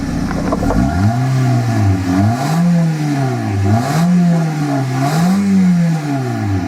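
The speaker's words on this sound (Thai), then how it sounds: "เร่งแรงๆดูเลยครับ" A used car's engine revs hard several times in a row, loud and close, each rise and fall of the revs cycling over a steady idle with no talk.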